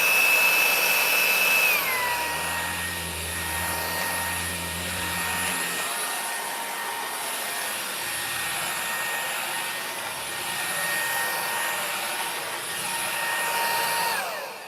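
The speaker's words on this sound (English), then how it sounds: "I like it because it's quite small and light. It's a Hoover." A small, light Hoover vacuum cleaner runs with a steady high motor whine that shifts pitch as it changes speed, swelling and easing as it moves, then winds down at the end.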